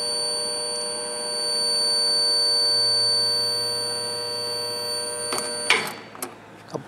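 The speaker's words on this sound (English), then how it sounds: "There's the alarm." Alarm of an MVE XLC-1110 liquid nitrogen storage container: a steady, loud electronic buzzing tone sounding continuously, then broken by a few clicks and knocks near the end.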